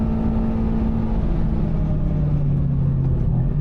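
A Subaru BRZ track car pulls under throttle on an F1 circuit at a racing school, its engine a loud, steady in-car drone whose pitch sags slightly toward the end, with no talking.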